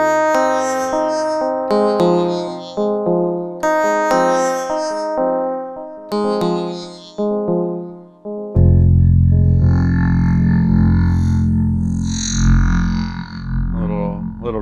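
Synthesizer chords play in a rhythmic pattern and then swell into a sustained, dense wash as effects such as reverb and distortion are added, loud and alone without talk.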